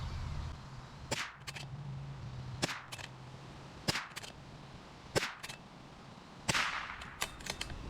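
Rifle shots from a .22LR bolt-action rifle firing Federal Champion 36 grain copper-plated hollow points in five-shot groups; a series of sharp, fairly quiet cracks spaced about a second apart, with some quick doubles, over steady outdoor ambience.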